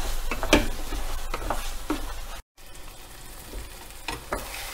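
Pepper chicken with curry leaves being stirred in a frying pan, a steady close sizzle broken by scraping spoon strokes at a loose rhythm, with a brief dropout midway.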